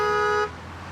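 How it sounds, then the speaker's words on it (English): A car horn blares in a sustained honk at a traffic intersection, as a driver signals another waiting to make a left turn. It is loud and steady for about half a second, then cuts off, leaving low traffic rumble. "The lady's honking the other guy for not making his left turn when he could have."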